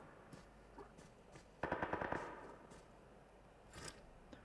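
Automatic gunfire sprays in PUBG Mobile, a single rapid burst of about a dozen sharp shots that cuts through a quiet background, with a fainter crack or two later on.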